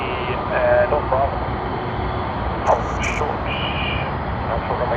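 A LATAM Airlines airliner bound for Santiago, Chile, at Sydney Airport gives a steady broadband jet roar that stays even across the moment. Faint radio-like tones and chatter sit on top of the roar.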